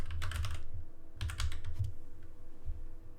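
Typing a brush name on a computer keyboard, two quick clusters of close, crisp key clicks with a few scattered taps after, under a low steady hum and no speech.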